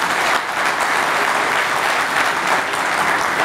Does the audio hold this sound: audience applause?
yes